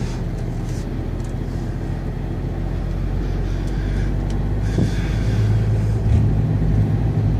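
A truck engine rumbling steadily and fairly loud as the lorry pulls over to the roadside, a constant low drone with no talking.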